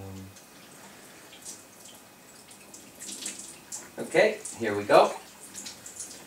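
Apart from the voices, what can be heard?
water flowing from Enagic SD501 Kangen water ionizer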